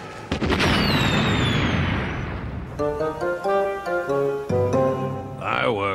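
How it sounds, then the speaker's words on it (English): In the video game Donkey Kong Country, one loud firework bang bursts near the start, its crackling rumble fading over a couple of seconds before bright music takes over. "Fireworks. I just love fireworks."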